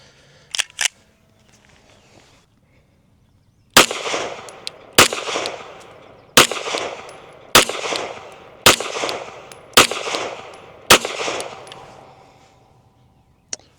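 Seven sharp pistol shots from a BUL Armory TAC 5 Stainless 2011 firing 115-grain Blazer ammo, spaced about a second apart, loud and close, after a couple of faint clicks and a quiet pause.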